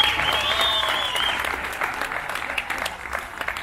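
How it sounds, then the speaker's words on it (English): A crowd at a UCF Knights booster tour event gives a round of applause for the two head basketball coaches, a clear burst of clapping that gradually thins out with a few scattered voices underneath. "round of applause for our two head basketball coaches."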